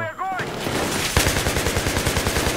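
Rapid machine gun fire in the Battlefield 3 story campaign: a dense, evenly paced stream of loud shots starts about a second in and keeps going to the end, with a brief tonal game sound at the start.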